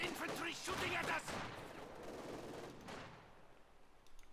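Infantry small-arms fire crackles in a Company of Heroes 2 battle, bursts of rifle and machine-gun shots, fairly faint and fading, set against battlefield noise and occasional commentary.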